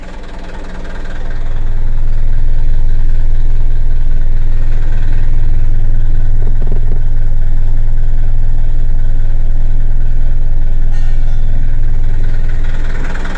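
A new car's engine idles roughly with an unsteady RPM that dips below 600, a steady loud low rumble running alone with slight wavering throughout.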